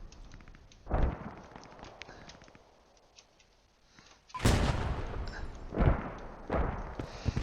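Tanks fire during a competitive wargame match on the Stonne map: a loud blast, a quieter stretch, then a cluster of heavy, booming shots close together.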